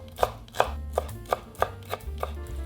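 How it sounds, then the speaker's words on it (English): A knife chops onions on a cutting board in eight evenly spaced, crisp thuds over less than three seconds, close and clear with faint low background hum and no voices. "Start by chopping the onions."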